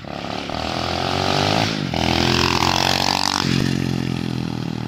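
A loud SSR 125cc pit bike engine revs hard and sweeps past close by, its pitch rising and falling through shifts as it accelerates, alone with no talking.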